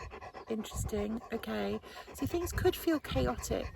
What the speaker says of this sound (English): Sorry about the dog panting. He's ever so loud.